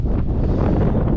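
Loud, steady wind roaring against the microphone on a boat in the Florida Keys, a dense low rumble with no pauses.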